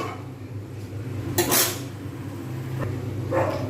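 A spoon stirs soaked chana dal in a metal pot, with a few distinct clanks and knocks over a low background hum.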